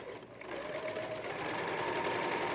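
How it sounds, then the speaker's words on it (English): A home sewing machine runs steadily, sewing a decorative stitch along a curved edge while quilting a chrysanthemum Dresden Plate block, a continuous close whirring hum with no talk. "let my machine do the stitching"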